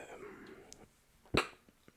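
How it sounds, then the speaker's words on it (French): A single sharp, loud cough breaks a quiet background, preceded by faint, low murmuring. "je suis désolé, j'ai la toux"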